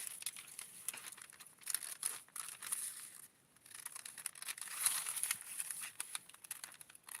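Scissors cutting fabric for small doll clothes, a run of soft snips and crinkly rustles close by and faint, with a short pause midway.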